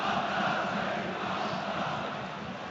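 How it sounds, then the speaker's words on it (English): Celtic fans fill a football stadium at a Livingston match with a loud, sustained roar of cheering that swells slightly and then holds steady, with no individual voices standing out. "The crowd are up, the energy's up from the players."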